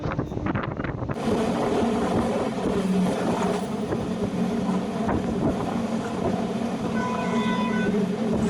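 A passenger train on a journey from Tamil Nadu toward Mantralayam runs steadily, a loud continuous rumble of wheels and carriages with some wind buffeting and no talking.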